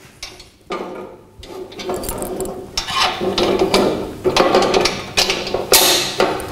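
A metal handle on a steel drum dispensing cradle is slid and pushed into its frame, giving close, loud clanks and scraping metallic rattles over several seconds.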